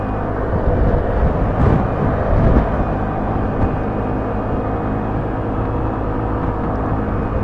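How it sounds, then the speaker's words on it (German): A 2025 VOGE SR16 125cc scooter is ridden at full throttle, giving a continuous engine drone mixed with strong wind rush that swells briefly early on, then holds steady, with no speech. "wir haben schon Vollgas hier."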